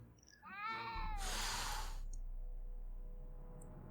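A cat meows once in the Back to the Future video game, a short, clear, rising-falling cry followed by a quiet hiss of background noise.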